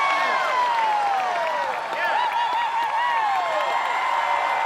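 An American Ninja Warrior arena crowd cheers and applauds loudly and continuously, with whistles and whoops cutting through the roar as a voice talks over it.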